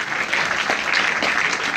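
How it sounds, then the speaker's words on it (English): Steady applause for a man being honored at a sickle cell awareness gathering, dense continuous clapping throughout with no talk over it. "A round of applause for Mr."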